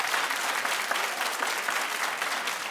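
Studio audience at a daytime talk show clapping steadily, a dense, even wash of applause that holds at a constant loud level throughout with no voices on top.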